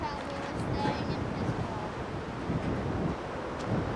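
Wind buffets the microphone in a steady, rough roar that runs throughout, with gusts swelling and fading.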